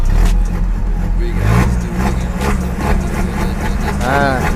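A Vigo engine fitted with a tuned D-Max throttle pedal revs loud and close, its low rumble rising in short bursts while someone talks over it.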